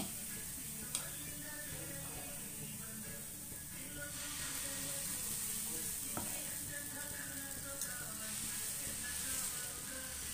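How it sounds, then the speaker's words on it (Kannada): Thick dosa batter sizzles steadily on a hot griddle, a soft continuous hiss with faint clicks and no talking over it. "ನೋಡಿ, ಹಂಚು ಕಾಲಿದೆ. ಈಗ ನಾನು ದೋಸೆ ಹಾಕ್ಕೊತೀನಿ."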